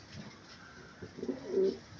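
A pigeon gives soft, low coos, a few quiet rising calls near the end of a short, otherwise still moment with no voices.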